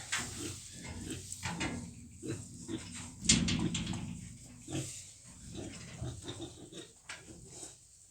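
Pigs grunt and snuffle inside a barn pen with rotting boards along the wall, a busy cluster of close, overlapping grunts with one louder squeal-like burst near the middle.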